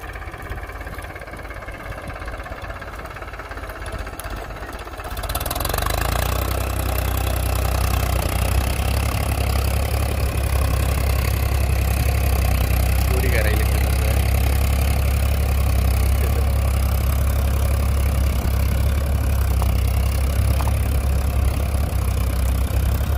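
A Euro 47 Supermaxx tractor engine starts up after a few quiet seconds and then idles loudly and steadily nearby, a heavy low rumble with a faint knocking texture that persists unbroken.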